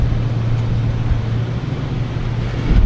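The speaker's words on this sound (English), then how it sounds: "That sounds like your engine" A truck engine in four-wheel-drive low rumbles steadily at a low pitch, loud and close, with wind-like noise over it.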